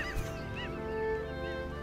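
Seagull calls in the video game Unravel: a few curved, squawking cries, moderately loud, ringing out over a steady ambient bed of music and background noise.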